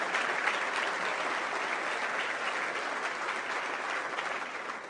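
A large audience at a global climate summit claps for state governors, steady sustained applause heard from a distance with no voices over it.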